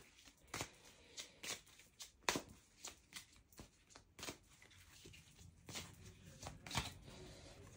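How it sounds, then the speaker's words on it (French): Oracle cards are shuffled by hand, a run of close, crisp riffling flutters and soft slaps in a quick, uneven rhythm, quiet and with no talk. "On va tirer juste une petite carte et on va aller voir ce qu'ils disent"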